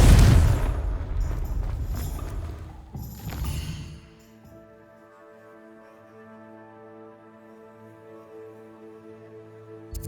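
Confringo fire spell exploding in Hogwarts Legacy on PS5: a loud, rumbling blast that roars for several seconds, then fades under a quieter, steady tonal musical backdrop.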